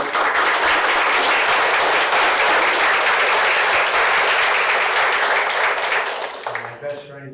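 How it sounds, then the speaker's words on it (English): A conference audience at an anniversary briefing for a national neuroscience institute gives sustained, full applause that holds steady, then fades out near the end as a voice begins to speak. "Let's give them a hand of applause."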